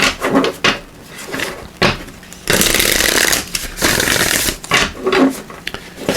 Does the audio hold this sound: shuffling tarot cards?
yes